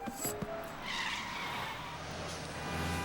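Film sound effect of city traffic with a hubcap dropping and rolling behind a theater audience: tire skids and a vehicle rush fill the mix, with a short metallic clatter near the start.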